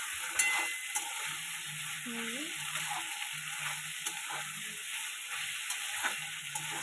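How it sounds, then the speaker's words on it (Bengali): Potatoes with ginger paste and spices fry quietly in a pan. A soft, steady sizzle runs under intermittent scraping stir strokes, with a faint tonal hum in the background and no talking. "মিনিট চার পাঁচ ভালো করে কষিয়ে নিতে হবে আলু আলুটাকে মশলা দিয়ে"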